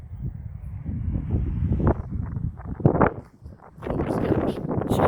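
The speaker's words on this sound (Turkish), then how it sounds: "Çok esiyor konuşamıyorum." Strong wind gusts roar across a dam lake at Çubuk 2 Dam, a steady low buffeting rumble over the microphone that swells and dips for the whole stretch, with possible faint voice mixed in.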